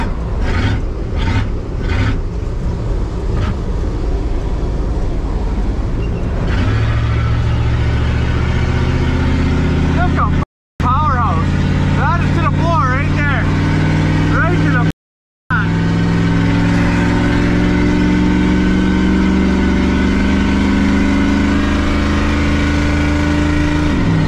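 A 7.3 IDI diesel engine in a garbage truck runs and revs, a loud close rumble that rises and falls, with scraping and rattling early on and two brief dropouts where the sound cuts out.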